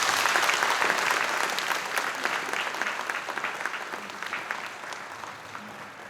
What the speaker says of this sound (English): Let's give Austin another big round of applause.